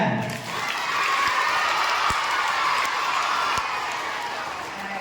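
A crowd at a debate programme claps and cheers together in a broad, sustained wash of applause with shouting voices, steady and fairly loud, a few sharp knocks cutting through.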